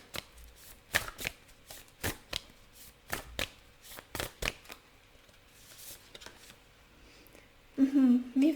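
Tarot cards are handled and shuffled from a deck in a quiet room, a run of sharp riffling snaps and slaps, followed by a brief burst of talking at the end.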